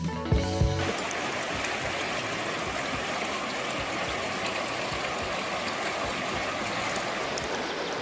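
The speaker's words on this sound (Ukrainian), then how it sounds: "Ось перше місце, річка трошки шумна, ну, гірська." A noisy mountain river in the Carpathians rushes steadily and close by, a continuous broadband wash of flowing water with a brief tonal sound at the very start.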